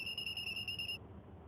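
A whistle blows one steady, shrill, high tone for about a second, then cuts off, leaving a quiet room.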